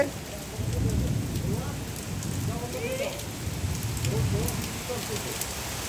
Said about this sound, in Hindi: पानि एहन भऽ रहल छै भयंकर देखियो एहिमे